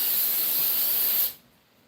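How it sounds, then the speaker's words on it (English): An aerosol spray can blasts a loud, continuous hiss onto an Oldsmobile 403 engine part for over a second, then cuts off sharply to near silence. "I'm spraying it down"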